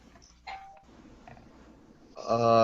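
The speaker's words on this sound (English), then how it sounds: "Somebody just rang my doorbell." A doorbell chimes at moderate distance, followed by a louder, sustained ringing tone near the end.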